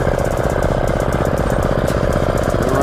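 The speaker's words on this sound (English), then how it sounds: "The running engine." A Baja Warrior mini bike with a big tire fitted, its small engine running steadily and close, with a rapid, even, loud putter that holds throughout without talk.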